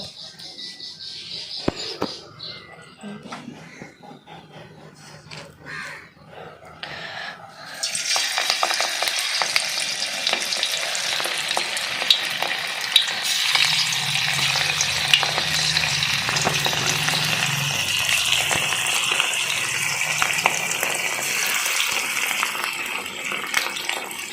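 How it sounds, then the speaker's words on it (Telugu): Chicken pieces dropped into hot oil in a kadai for chicken pakodi, a quiet start giving way to a loud, continuous bubbling deep-fry sizzle with occasional stirring. "మళ్ళీ స్టవ్ వెలిగించి కళాయి పెట్టుకున్నాను నూనె మరిగే వరకు ఉంచాలి ఇప్పుడు చికెన్ పీసెస్ వేసుకుందాం"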